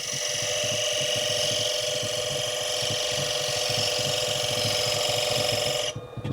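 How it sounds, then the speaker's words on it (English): A small skew chisel cuts gently into a spinning wooden toy wheel on a lathe, adding a rabbet detail on the outside corner, giving a steady close whirring scrape over the motor hum that drops off near the end. "So if we take our little skew chisel, we can drive it in just gently."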